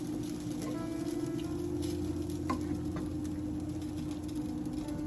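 Vegan cauliflower fried rice stirred around a pan, a soft, even sizzle with light scraping and tapping of the utensil, quiet and close, no one talking, a steady hum running underneath.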